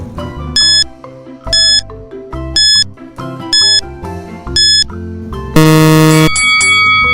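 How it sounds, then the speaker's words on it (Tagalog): Quiz countdown timer for a grade 4 science lesson, a repeating chime pattern of bright ding tones about once a second, ending in a loud sustained buzzer-like tone near the end, with no talk. "Timer starts now."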